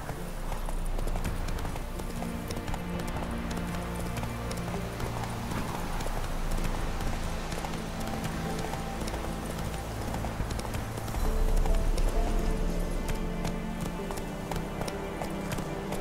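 A horse gallops steadily in The Witcher 3 video game, its clip-clopping hooves beating fast and continuously under game music for the whole stretch.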